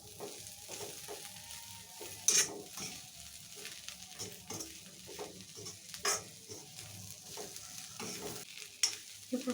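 Ivy gourd (tindora) pieces fry in a pan with a soft, continuous sizzle, punctuated by intermittent spatula scrapes and clinks as they are stirred, fairly quiet and without talk.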